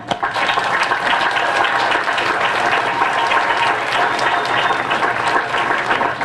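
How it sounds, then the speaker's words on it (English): High school graduation ceremony applause, a loud, full and continuous roar of many hands clapping that fills the hall throughout. "This is a huge accomplishment. You deserve an applause."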